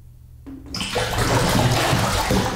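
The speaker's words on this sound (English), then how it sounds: "water just came out of the faucet again" Water suddenly gushes from a jacuzzi faucet in a quiet room, beginning with a brief tone and then building into a loud, steady rush and splash.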